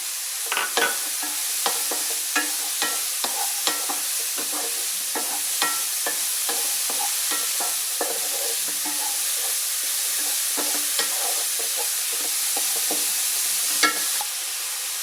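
Chopped onion stir-fried in a hot pan: a steady, close sizzle with frequent light scraping and clicking of the spatula against the pan, continuing evenly with no talking.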